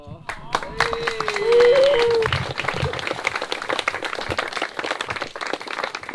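A brief burst of clapping from a small group of wedding guests rings out over background chatter, steady and fairly close.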